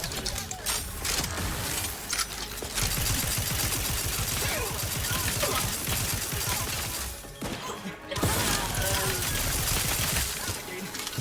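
Rapid firing and impact bursts from a goo gun in the video game The Outer Worlds 2, with dense clattering shots and crashes in loud sustained volleys that drop out briefly near the end.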